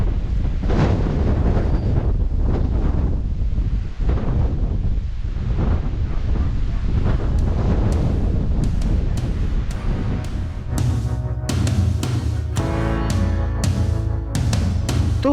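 Strong coastal wind near sea cliffs by the ocean buffets the microphone in a loud, continuous roar with gusting surges, over the faint wash of surf.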